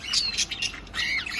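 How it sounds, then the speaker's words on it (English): Birds squawk and chirp inside a large shop in Algeria: sharp, shrill calls come close and loud in overlapping bursts, with no talking. "wait, I see birds flying around"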